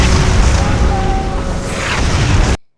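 Fireballs explode in the God of War mobile video game, a loud continuous rumbling blast with crackling bursts that cuts off abruptly near the end.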